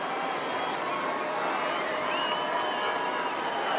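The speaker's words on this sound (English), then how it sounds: "Crowd making noise." Spectators at a Clarkston vs. Rochester Adams high school football game make loud, sustained crowd noise in the stands, a steady roar and buzz with no pause and no clear voice standing out.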